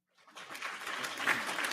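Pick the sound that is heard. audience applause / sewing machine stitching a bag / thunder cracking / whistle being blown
audience applause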